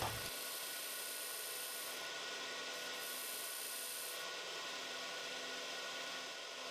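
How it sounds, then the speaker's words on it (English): A skew chisel marks a step into wood spinning on a lathe while turning a box lid, producing a continuous, even rubbing hiss that holds steady throughout at moderate level. "I am marking with the skew chisel the width and the depth of this step."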